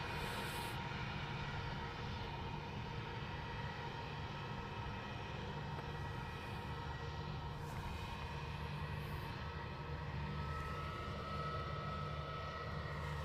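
Aircraft at Christchurch Airport give a faint, distant, steady engine drone that holds level throughout, with no talk.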